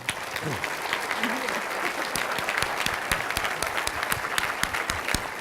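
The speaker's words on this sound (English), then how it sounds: "just give Amory Lovins a nice round of applause" An audience at the Cintas Center applauds a guest speaker, a continuous wash of many hands clapping with crisp individual claps on top and a brief voice under it early on.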